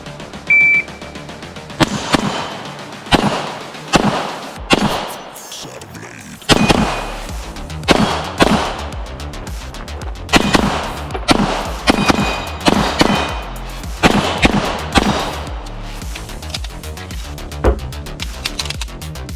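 A Nighthawk BDS9 pistol fires a steady string of sharp, loud gunshots in a shooting drill from a low-ready start, after a short pause near the beginning. Cracks come close together in evenly spaced bursts, with no talking.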